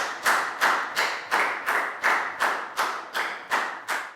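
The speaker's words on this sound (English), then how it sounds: "So a big round of applause" A single pair of hands claps about eleven times in an even, steady rhythm, close and crisp with nothing else around it, as a round of applause for pupils in a Year 3 English lesson.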